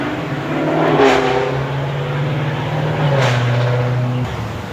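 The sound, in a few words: motorcycle passing in the background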